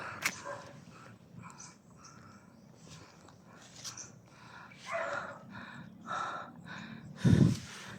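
Dogs in a tense survival game scene give faint snorts and breathy sniffing sounds over a quiet ambient background, ending with one louder, close huff.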